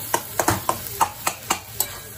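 A spoon scrapes and stirs roasted eggplant bharit sautéing in a pan on a gas stove, eight or so crisp rhythmic strokes about a quarter second apart, close and clear, with faint sizzling beneath.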